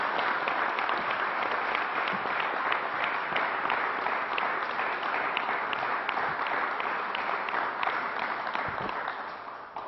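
Dense, steady applause from the audience at a state news briefing for Ms. Lewin, a young cancer survivor who got her shot, sustained evenly for about ten seconds before tapering slightly at the end.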